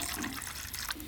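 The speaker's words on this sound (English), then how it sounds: "let's pour this into a container and get our parts in there" Degreaser poured into a container for soaking engine parts, a short continuous splashing gurgle of liquid close up.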